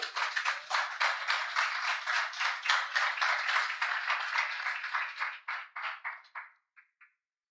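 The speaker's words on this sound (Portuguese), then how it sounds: "Uma salva de palmas ao Senhor" Church congregation giving a round of applause, dense hand clapping at steady volume that thins to a few scattered claps and stops near the end.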